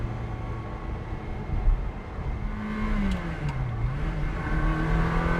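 A 2003 Ferrari 360 Modena Spider engine pulls steadily under acceleration, a continuous close drone with a rising and dipping pitch through the middle of the run, no voices over it.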